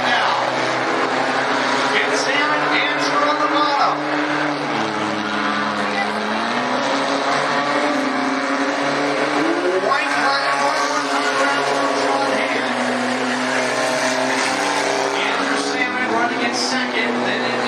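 Hornet-class race cars roar around Cottage Grove Speedway, engines droning loud and continuous with pitch sweeping up and down as they pass, blending into one dense layered howl.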